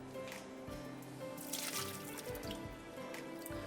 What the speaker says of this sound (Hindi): आलूओं में से पानी निकाल दूँ मैं